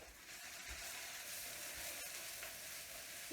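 Mushrooms cooking in a pan with garlic and herbs give off a faint, even, continuous sizzle that holds steady from start to finish.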